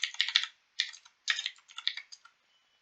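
Computer keyboard typing in short bursts of quick, crisp key clicks with brief pauses between, close and fairly quiet, ending in near silence.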